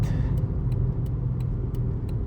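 A Toyota Aygo drives along, heard from inside as a steady low engine and road rumble with faint regular ticking on top, no talk.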